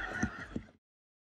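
A horse whinny rings out in a short, high, shaky burst of two or three pulses that stops abruptly, leaving silence.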